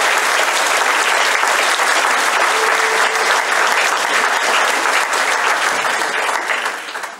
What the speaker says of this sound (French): On applaudit l'équipe.